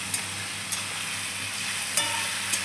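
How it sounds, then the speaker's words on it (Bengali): Onion, ginger and garlic paste frying in oil while being stirred, a continuous even sizzle with a few sharp spatula scrapes against the pan, close and alone without any voices. "এবার যতক্ষণ না পেঁয়াজের ভাজা একটা গন্ধ ছাড়বে ততক্ষণ এটা তেলে ভাজা ভাজা করে নিতে হবে ভালো করে"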